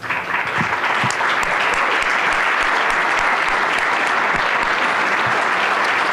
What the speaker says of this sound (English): is that applause for me or for the first place winner?